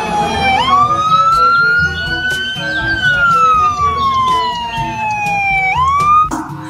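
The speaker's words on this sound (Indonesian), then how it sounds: "Yang ini ada mobil ambulans." A toy ambulance siren wails steadily and loudly up close, its pitch gliding slowly up and then back down, then jumping up again near the end, alone and with no voices.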